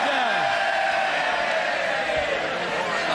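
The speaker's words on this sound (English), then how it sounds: "it's very good to see the Labour Party in full voice cheering on Jurassic Park" Labour MPs cheering and shouting in the House of Commons, a loud continuous roar of many voices with whoops, filling the whole moment without a single clear speaker.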